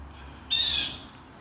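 A bird lets out a single loud, harsh squawk up close, about half a second long, then quiet returns beneath a low background hum.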